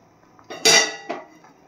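A metal spoon clinks against a pot of avarekalu sambar and a lid clatters down to cover it, giving a few sharp, close metallic knocks with a brief ringing tail.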